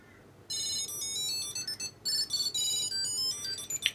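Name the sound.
Tile Bluetooth tracker ringing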